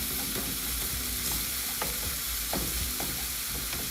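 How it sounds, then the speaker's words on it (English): Food sizzles and steams in a frying pan, a dense continuous crackle and hiss with faint periodic scraping, heard close and steady without speech. "Hear that sizzle? Hear that steam?"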